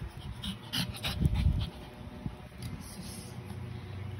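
A pet dog panting and snuffling close by at home, with a burst of heavier breaths in the middle, under faint background noise.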